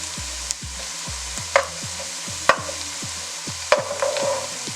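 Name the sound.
stirring spinach, onion and garlic frying in a pan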